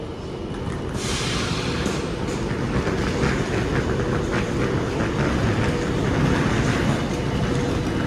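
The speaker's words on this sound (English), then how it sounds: "get a shot of this train departing, as this train does actually have a 5-minute layover here at Crewe" A passenger train pulls out of Crewe station, its steady rolling rumble and rhythmic clickety-clack of wheels over rail joints sounding close and continuous, with no talking.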